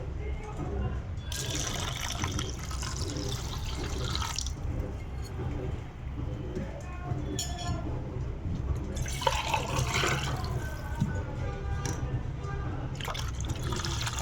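Milk is poured for a cool watermelon sharbat with soaked sabja seeds, a steady liquid splash that runs nearly the whole time, with a voice talking over it.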